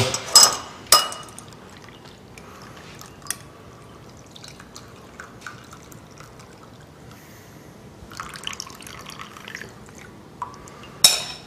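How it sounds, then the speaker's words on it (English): Tea poured through a strainer while a raw-food wrap and parfaits are made; a soft liquid trickle and drips run quietly alongside a few sharp clinks of dishware, loudest near the start and end. "So we have this beautiful tea. We'll just pour it through here."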